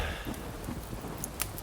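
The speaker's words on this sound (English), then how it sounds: "Especially when a storm like this rolls in." A thunderstorm rolls in over a mountain setting, steady rain hissing with a low rumble of thunder underneath and a few sharp drops or cracks, with no voices.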